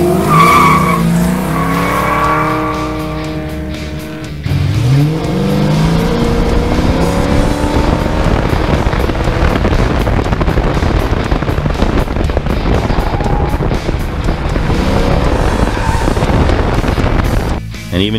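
Tires squeal and skid loudly as an LQ4-swapped 1981 Camaro Z28's engine revs hard up close while autocrossing, the screeching rising and falling throughout with no talking.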